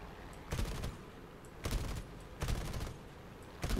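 Machine-gun fire from an F3F-2 biplane aimed at an I-16 Ishak in a War Thunder air battle comes in four loud, short rattling bursts spaced about a second apart over a steady engine drone.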